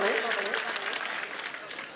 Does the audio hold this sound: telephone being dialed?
no